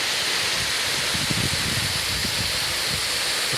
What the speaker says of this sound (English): We have almost reached the summit of the Bambarakanda waterfall.